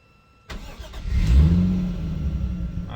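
A Toyota 1JZ engine cranks and fires up at about half a second, settling into a steady idle through a quieter exhaust, close and fairly loud with no talking.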